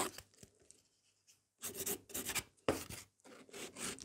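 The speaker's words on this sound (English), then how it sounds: "So I'm just filing a little bit at the angle." Nail file rasping against coffin-shaped gel nails, held at an angle; short bursts of gritty rubbing strokes with brief pauses between them, close and fairly quiet.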